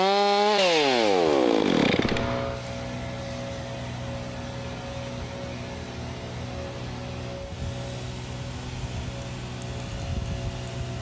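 A chainsaw makes a finish cut on a fallen tree that had landed on a garage, revving up loudly at first, then settling into a steady, sustained cutting drone close by for the rest of the stretch.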